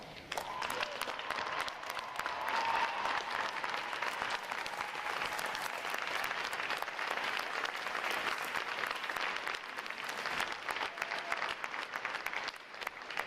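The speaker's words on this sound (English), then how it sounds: "Will all our veterans please stand so we can give you a round of applause" An audience at a Navy boot camp graduation gives veterans a sustained, steady roar of applause lasting over ten seconds, dense and even throughout with no clear voices.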